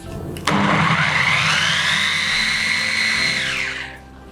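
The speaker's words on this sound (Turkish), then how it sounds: "Ve blenderdan geçiyorum." A blender motor kicks on abruptly, whirs loudly with a rising whine for about three seconds while blending chopped onion, then winds down.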